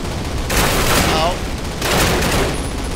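Two loud bursts of gunfire from a WWII-era gun in Call of Duty, set around the Normandy paratrooper missions, each burst lasting about a second with a gap of steady background between them; a voice talks over parts of it.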